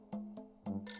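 A cartoon telephone ringing: three short tonal chimes followed by a brighter, buzzier ring, close and clear with no voices.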